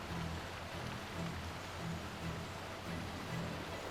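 Steady rain falls in Final Fantasy XII, a broad even hiss with a low rhythmic pulse beneath it, continuous and moderately loud with no voices.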